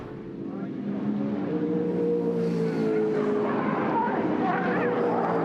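V8 Supercar race cars lap Wakefield Park during a 2007 Fujitsu V8 Supercar Series race, their engines a loud, continuous droning roar that holds steady throughout.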